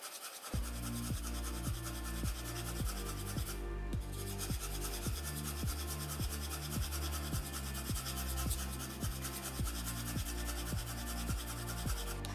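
Graphite pencil held upright, shading a gradient on drawing paper: close, soft rasping strokes repeat in a steady, even rhythm throughout.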